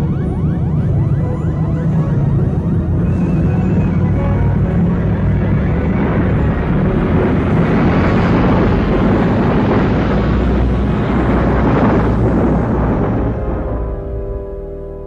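A spaceship crash landing in an audio drama, rendered as a loud, sustained roaring rush of noise that swells in the middle, thick with rumble and hiss, then tapers away at the end.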